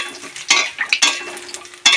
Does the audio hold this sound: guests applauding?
no